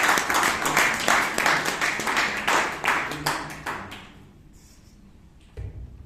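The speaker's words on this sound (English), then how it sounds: "Please give him a huge round of applause" Audience applause at a Toastmasters meeting in Bangalore: a short burst of clapping from a small room of people that fades out after about four seconds, followed by quiet and a faint thump.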